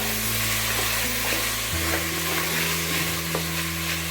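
Boiled black chickpeas and tomato frying in a pan for chickpea rice, a constant bright sizzle with stirring underneath, close and steady without talk, a low hum shifting partway through.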